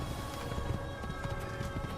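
A horse gallops in the video game Assassin's Creed, its quiet, rhythmic hoofbeats repeating steadily over a soft background.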